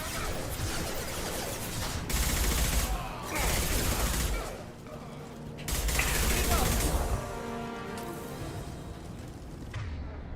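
Dense bursts of automatic gunfire from Blue Suns mercenaries and Vorcha in Mass Effect 2 on Omega, loud volleys rising and falling over about ten seconds with brief lulls and mechanical clatter between.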